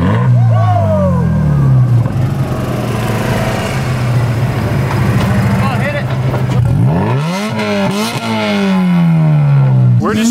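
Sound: Mazda RX-7 engine revving

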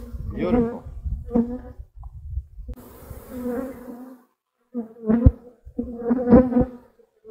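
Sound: honeybees buzzing around the hive and camera

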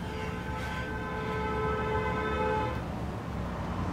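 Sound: car horn honking

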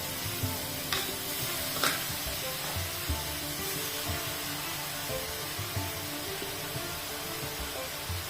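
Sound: grated carrots sautéing in a wok

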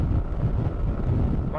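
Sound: strong wind noise while riding a Macbor Montana XR1 motorcycle

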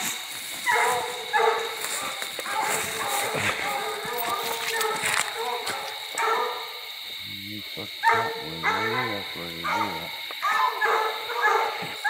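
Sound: dog barking during coon hunt

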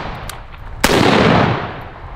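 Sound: AK rifle gunfire

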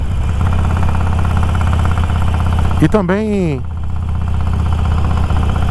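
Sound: motorcycle engine idling

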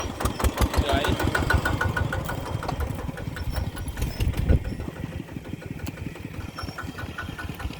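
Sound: tractor engine running

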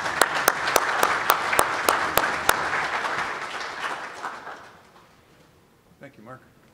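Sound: audience applause welcoming a speaker

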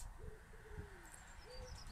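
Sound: birds calling outdoors

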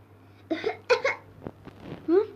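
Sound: child coughing

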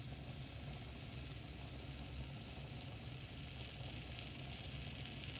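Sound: sand and salt mixture boiling and sizzling on a burner

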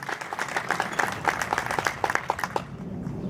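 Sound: applause

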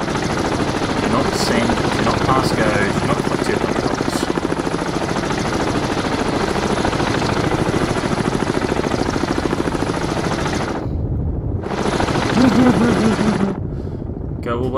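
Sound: helicopter rotor noise in the video game Cold Waters

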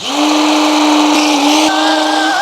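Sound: food processor chopping apples

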